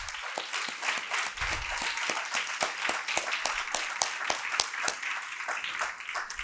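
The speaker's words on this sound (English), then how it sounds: "please give them a round of applause" An audience at the NAMI Central Texas annual meeting claps steadily, a dense, sustained round of applause filling the room throughout.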